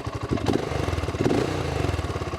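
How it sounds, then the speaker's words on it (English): A BSA Gold Star 650 single-cylinder motorcycle idles close by with a steady, lumpy thump of exhaust pulses and light mechanical clatter. "This is how it sounds at idle."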